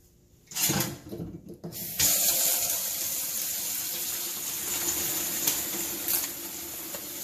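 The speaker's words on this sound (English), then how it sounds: "Okay, so I'm gonna rinse them off." Frozen snails rinsed under a running kitchen tap, a steady close hiss of flowing water with splashing and irregular bursts as the shells are turned in the stream, no talking.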